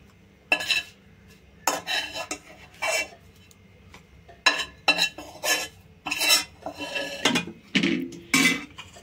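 Fried green chilli pieces scraped with a metal spoon from a pan into a mixer jar, a series of close, loud metallic scrapes and clinks in irregular bursts, no talking.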